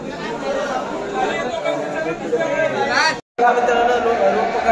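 Pilgrims chatter densely in a packed crowd in Shirdi at the end of a foot pilgrimage from Bhandup, a steady babble of many voices with a brief cutout near the end.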